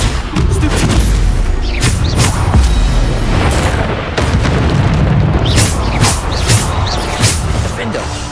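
Booming spell explosions from Hogwarts Legacy combat thud repeatedly amid loud, continuous game action, with a voice speaking over the blasts.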